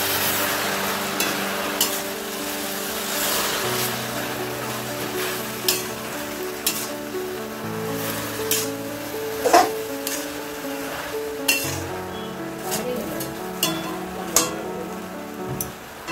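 Taro leaves being stirred together with turmeric, salt and a little water in a pan, a steady soft sizzle broken by scattered scraping clicks of the spoon, close and continuous with no talking.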